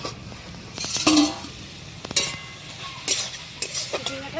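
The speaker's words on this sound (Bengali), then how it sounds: "ঢাকনাটা খুলে দেখবো" A metal lid is lifted from a cooking pot on the stove during the making of a coconut and snake gourd dish, with scattered clinks and clatters over a faint sizzle.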